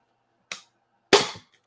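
A staple gun fires into canvas, two sharp snapping clicks about half a second apart, the second louder and fuller, close up against near silence.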